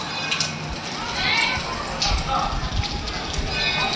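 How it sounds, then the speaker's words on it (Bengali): Steady rain falls on the courtyard of the Bara Shiva temple at Puthia, Rajshahi, a dense, even hiss of drops with a person speaking over it. "শুনতে পাচ্ছেন বৃষ্টির শব্দ।"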